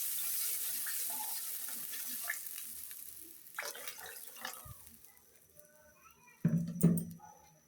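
Water is poured into a pan of sour curry with tomato, eggplant and jujube, making a steady splashing rush that tapers off, followed by a brief louder splash and a short voice near the end.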